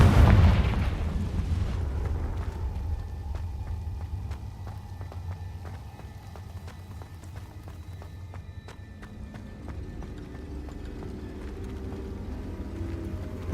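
A Confringo explosive spell from Hogwarts Legacy lands with one heavy booming blast at the very start, then a long rumbling decay fades under a low ambient bed with faint clicks, and no speech.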